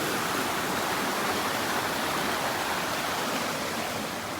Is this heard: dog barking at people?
no